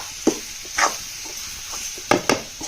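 Intermittent scraping of a spoon stirring a small raw jackfruit vegetable mixture in a pan, a few short strokes spaced apart with quiet faint sizzling between them.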